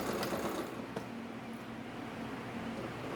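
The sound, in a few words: sewing machine stitching gathered fabric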